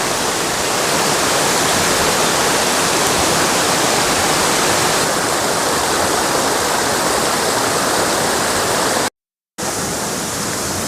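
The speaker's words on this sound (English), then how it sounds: "Here we are at the top of the falls." Waterfall at the top of Battle Creek Falls, a steady, loud, broadband roar of rushing water that holds evenly throughout, with a brief dropout near the end.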